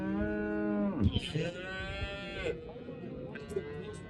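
A cow at a livestock market gives a long, loud, close moo, followed by a second drawn-out moo, with market chatter and other voices in the background.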